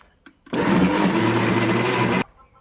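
A mixer grinder coarsely grinds raw mango chutney with green chillies in one loud, steady whirring burst of under two seconds. Faint knocks come just before it, and quiet follows.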